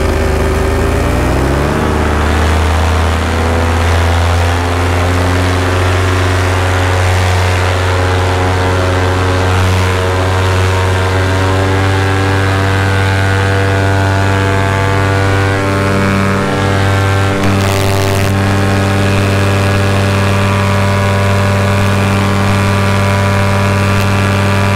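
A paramotor engine revs up from idle as the throttle rolls on, then holds a loud, close, steady propeller drone with strong harmonic hum for a long stretch, alone without voices.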